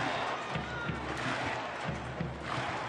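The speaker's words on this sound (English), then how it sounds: "Boy, crowd just keeps going" Steady roar of a stadium crowd at a Thursday night soccer match between Tampa Bay Rowdies and Charleston Battery, continuous and moderately loud, with rhythmic low thumps like drumming under the noise.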